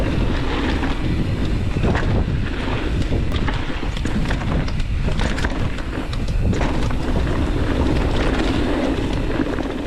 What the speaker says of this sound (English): that's a side wind on that bit